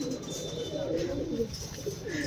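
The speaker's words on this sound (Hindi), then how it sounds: "वहाँ पे दो कबूतर बैठे हुए हैं, बाकी सारे बाहर कबूतर खा रहे हैं दाना" Soft, low pigeon cooing rolls on steadily, with a faint murmur of several birds close by and no clear talk.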